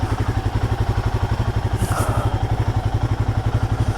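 A Royal Enfield Guerrilla 450 motorcycle idles close by with a steady, rhythmic, thumping exhaust pulse, fairly loud, with a brief mechanical clatter midway and no voices.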